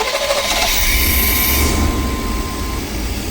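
Chevy G20 van engine turning over and catching after a throttle position sensor replacement, settling into a steady idle with a broad, continuous rumble and hiss close by, no voices.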